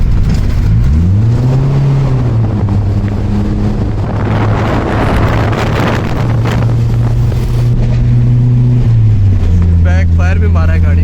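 A Toyota KE70 with a straight-pipe exhaust revs loudly and close by, its engine note climbing and falling several times, with a rough crackling burst in the middle like a backfire.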